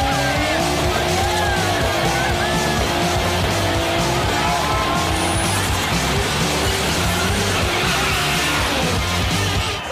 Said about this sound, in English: Man, this was a sick burnout.